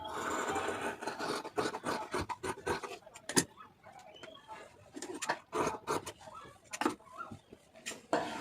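Scissors snip through blouse fabric laid out for cutting, with faint, irregular scratchy snips and rubbing of cloth, close by and quiet, no one talking.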